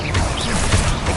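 Bombarda blast spell in the Hogwarts Legacy video game: one short, loud crashing burst with a rumbling impact that fills about a second, no talk over it.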